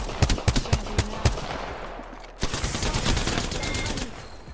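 Gunfire in the Apex Legends battle royale game: several quick separate shots crack close by, then after a brief lull a dense, sustained rattle of automatic fire continues, with faint voices underneath.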